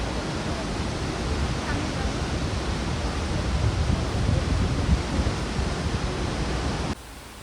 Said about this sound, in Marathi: हा आहे दाबोसाचा धबधबा